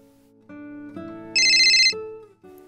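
A telephone rings with a synthetic ringtone: stepped electronic tones build up, then a bright, shrill burst of ringing peaks before the tune drops back.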